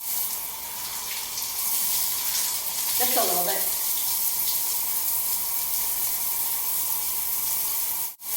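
Shower water runs in a steady, unbroken hiss while hair is being washed, continuing for several seconds before cutting off abruptly at the end, with a brief spoken phrase partway through.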